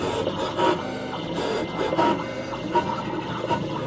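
A Siser Juliet cutting machine works through a cut, giving a steady close mechanical whir and rasping, with repeated carriage movements and no voices over it.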